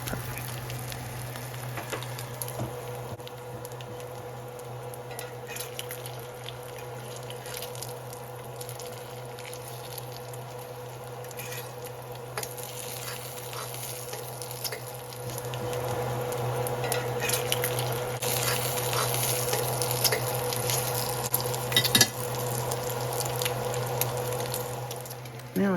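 Bacon fries in a pan during a French toast breakfast, giving a continuous soft crackling sizzle over a steady low hum that grows louder and busier in the second half, with no talking.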